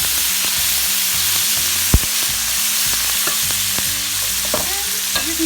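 Capers and olives stirred through a sizzling pan for spaghetti puttanesca, a steady close frying hiss with repeated scraping strokes of the spoon and one sharp knock partway through, no voices.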